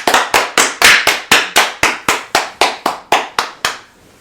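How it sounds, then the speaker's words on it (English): A group of people clap their hands in unison, about fourteen sharp, loud claps in a steady even rhythm, ending with a fading tail and no talking. "Everybody clap your hands."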